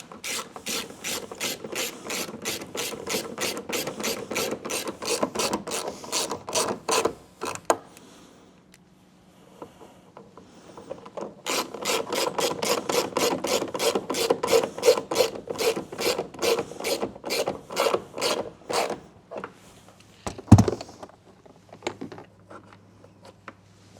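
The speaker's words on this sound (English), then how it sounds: "Then we get these bolts back on." Ratchet tightening bolts on a 2013 Ford Escape during a rear brake light replacement: rapid, loud, close clicking runs in long steady bursts, pauses briefly, then resumes before a single knock.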